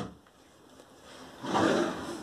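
A drawer on a three-drawer vanity table slides open or shut in a quiet room, a short soft scrape that swells to a brief rush of friction near the end.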